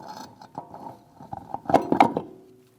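Ratchet clicking on a Mitsubishi Outlander wheel lug nut during a front brake job, a short run of quick mechanical clicks that bunch into louder, close bursts toward the end.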